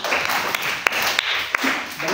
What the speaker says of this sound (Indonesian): Oke, tepuk tangan untuk hari ini.